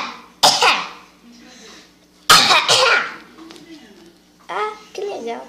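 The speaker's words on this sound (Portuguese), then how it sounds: "Eu sou um ursinho que só sabe tossir." Two harsh coughs ring out a couple of seconds apart, close and loud, with quieter vocal sounds after them and a voice near the end.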